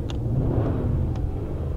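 A 2015 Toyota Tundra with its 5.7 liter V8 engine revs briefly from inside the cab, giving a deep, loud, close rumble that swells and then settles.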